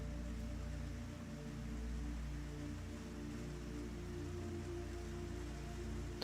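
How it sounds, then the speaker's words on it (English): Rain falls outside as a steady, soft wash of hiss with a low rumble beneath, continuous and fairly faint, with no voices. "The rain outside,"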